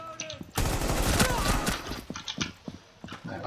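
Rainbow Six Siege gunfire bursts out loud and dense, a rapid sustained volley of recoiling shots that breaks into a few scattered single pops afterward, with no talk.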